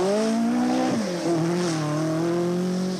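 A 1985 rally car at full speed on the Monte Carlo Rally's first special stage, its engine roaring loud and close with a steady rising pitch, broken by a quick gear change about a second in. No voices are heard.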